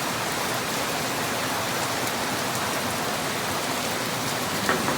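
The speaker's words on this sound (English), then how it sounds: "You can hear it bounce off of the gazebo in the middle of the backyard." Steady heavy rain patters on a backyard gazebo roof, a dense continuous hiss with no voices.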